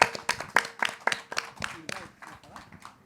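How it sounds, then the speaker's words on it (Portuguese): An audience claps at a stage session of periferal poetry, hip-hop and marginal art, with sharp, irregular hand claps over about three seconds that thin out toward the end, mixed with voices. "Salva de palmas."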